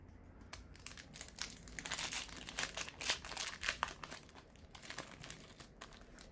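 A Pokémon Burning Shadows booster pack's foil wrapper is torn open and crinkled by hand in a quick, close flurry of crackling and crumpling that rises and falls for several seconds.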